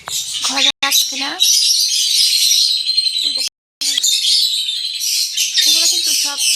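Pet lovebirds with their chicks keep up a dense, close chorus of high chirps and squawks. A voice talks under the calls at the start and again later.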